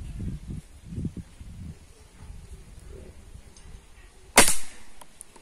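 A single sharp Rossi rifle shot cracks out near the end, fired while adjusting a scope, after quiet rustling and faint low murmurs.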